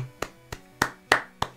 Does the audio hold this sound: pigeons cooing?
no